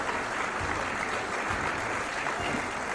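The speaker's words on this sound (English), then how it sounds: "A round of applause." Audience applause at a tribute to Dusty Baker and Sandy Alderson, a steady wash of clapping from a crowd that stays even and sustained through the whole stretch.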